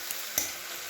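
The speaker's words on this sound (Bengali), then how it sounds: "পেঁয়াজ দিয়ে পাট শাক ভাজা" Pat shak, jute leaves, sizzling with onion in a pan, a steady low fry broken by a quick clink or stirring scrape, fairly quiet and without talk.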